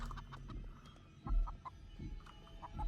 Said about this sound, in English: Why is a chicken scary?